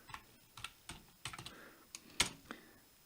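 Keys tapped on a computer keyboard while a command is typed into a Raspberry Pi terminal, a string of close, crisp clicks in uneven bursts with brief pauses and one sharper, heavier press near the end, no talking.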